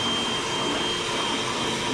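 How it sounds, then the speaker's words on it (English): A vacuum cleaner sucks up carpet trimmings during a carpet installation in an off-grid Alaskan cabin, giving a steady, loud, close whining roar that holds unbroken throughout. "Almost every time I cut, I'm gonna have to vacuum because it sprays a bunch of those carpet whiskers everywhere."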